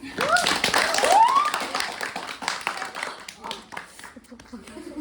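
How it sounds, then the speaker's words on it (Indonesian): Hand clapping under excited talk, loud at first and then thinning out, with a voice continuing over the scattered claps. "Tepuk tangan."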